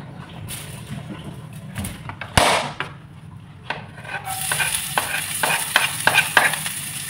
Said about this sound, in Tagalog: mag-fry naman tayo ng onion dito para sa sauce